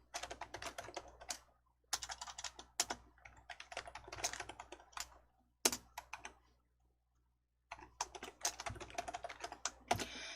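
Someone types on a computer keyboard in a Korean word processor, pressing Enter. Close, quick bursts of clicking keystrokes are broken by short silent pauses, with no voices.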